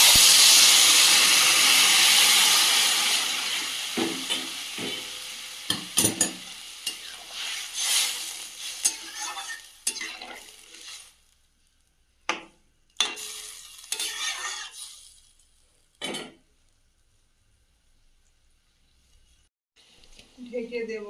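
Hot water hits sautéed vegetables in a pan and bursts into a loud, hissing sizzle that fades over several seconds, followed by sparse clanks and scrapes of a utensil and then near quiet.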